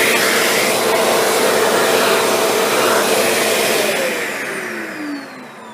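A Shark Apex upright vacuum cleaner runs with a steady, loud, airy whine at an even level, then trails off slightly quieter near the end, with no voices.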